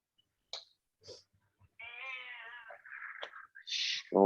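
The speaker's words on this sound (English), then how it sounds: "Sound like a very old meow." An old cat meows in a quiet room: a few short, faint chirps, then a longer wavering meow and several more cries of varying pitch, close and alone.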